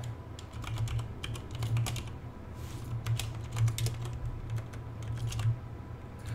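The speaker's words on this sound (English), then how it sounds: "So let me just finish typing this out." Rapid keyboard typing, a steady run of close clicks and taps in uneven bursts, with a low constant hum beneath.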